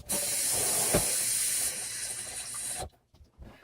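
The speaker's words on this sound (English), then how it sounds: "And wash my hands." Kitchen tap running steadily while hands are washed, a close hissing rush of water that cuts off near the end, followed by a few soft clicks and no speech.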